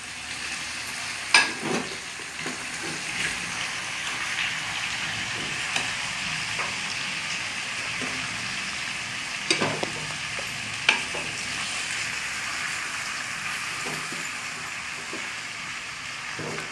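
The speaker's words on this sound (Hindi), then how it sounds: "अब हम इसको गोश्त और आलू को बाहर बाउल में निकालने लगे हैं" Fried meat and potatoes are scooped from a sizzling pan into a bowl, with a steady frying hiss under a few clear scrapes and clinks of the spoon against the pan.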